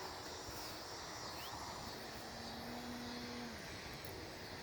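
A Dynaflite Bird of Time powered glider's electric motor runs at full throttle, giving a faint, steady airborne whine and hum against open-air background noise, with no talking.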